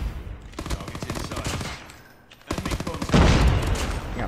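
Rapid bursts of PPSh submachine gun fire in Call of Duty Mobile, two sustained volleys of fast, crackling shots with a short lull between, loud and close.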